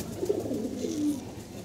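Pigeons in a loft coo softly, with low, throaty calls close by. A short cooing phrase runs through the brief moment, quiet and alone.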